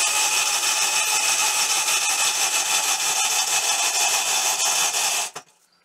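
Impact wrench taking the blades off a Gravely Pro 252 zero-turn mower: a loud, continuous high-pitched buzzing rattle held for about five seconds, then cut off abruptly into near silence.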